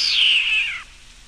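A single drawn-out cat vocalization, high and strained, sliding downward before cutting off, close and fairly loud.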